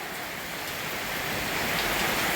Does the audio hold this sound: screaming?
no